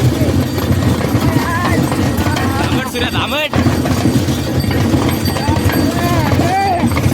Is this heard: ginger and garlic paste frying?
no